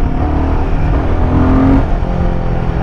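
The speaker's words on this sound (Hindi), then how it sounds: "So now the bike is in 3rd gear and still there is some judder" A Royal Enfield Himalayan 450 motorcycle engine pulls in third gear with a steady, loud, close drone that slowly rises in pitch, showing a slight judder and lag around low revs.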